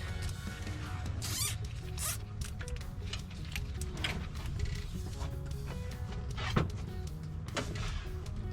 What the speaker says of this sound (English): we're gonna zip tie